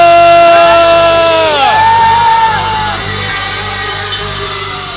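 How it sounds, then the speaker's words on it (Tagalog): A church congregation at a 24th anniversary united worship service shouts hallelujah together, a loud sustained swell of many voices that slowly fades over several seconds. "Sabay-sabay sigaw, hallelujah!"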